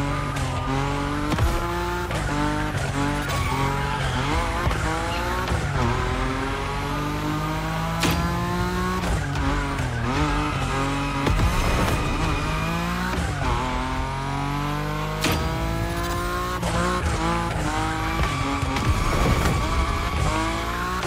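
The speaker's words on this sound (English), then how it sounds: "Your Nismo is powerful enough to slide along on its own when you're at high speed" A Nissan Nismo drifts at high speed in The Crew Motorfest: a loud, continuous engine note rises and falls with shifts while long tire squeals streak over it through the whole stretch, and no one speaks.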